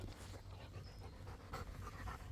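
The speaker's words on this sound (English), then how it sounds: "Say goodbye to my lovely dog" A dog pants quickly and steadily outdoors near a road, soft rhythmic breaths close by against a low background rumble.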